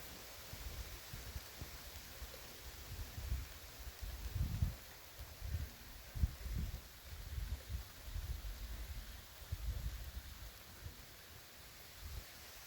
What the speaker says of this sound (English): Well, it is raining, and the wind, you can see that over there.